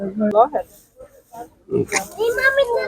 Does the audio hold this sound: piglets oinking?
yes